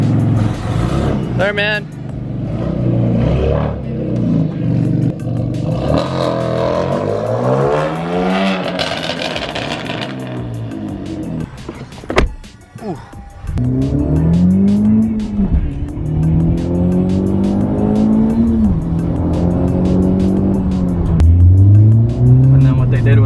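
A modified Acura NSX accelerates on a street cruise, the engine note sweeping up through several gears with sharp revs and a brief lift-off, loud and close from inside the car, with occasional talk among the occupants.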